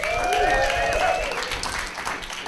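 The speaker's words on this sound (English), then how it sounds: "How about another round of applause for Laura Barrett, everybody?" An audience applauds a guest on a live podcast show, the clapping loud at first and tapering off, with a tonal music sting layered over the opening.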